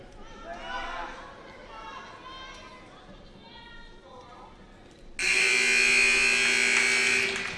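Crowd chatter and cheering fill a gym at a high school wrestling match, then a loud, harsh final buzzer blares steadily for over two seconds before cutting off.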